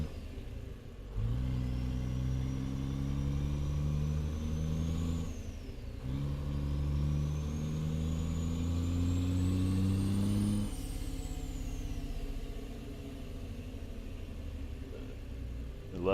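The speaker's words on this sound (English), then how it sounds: "I love how that exhaust sounds." Kenworth K100 truck engine and exhaust in American Truck Simulator: a steady, loud, close diesel drone that climbs in pitch as it accelerates, with a brief dip partway through. No one speaks.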